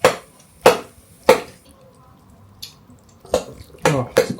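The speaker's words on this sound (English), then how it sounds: "you have to break it up and then mix it into your rice" A spoon breaking up an egg and mixing it into a bowl of rice, several sharp taps and scrapes against the bowl spaced irregularly, with a brief soft voice in between.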